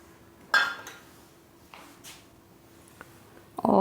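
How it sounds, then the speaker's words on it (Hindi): Semolina tipped into a jar, heard as a few scattered clinks and rattles of grains and container with quiet gaps between, ending in a louder clatter. "तो एक जार ले लेंगे और इसमें डाल देंगे ये सूजी"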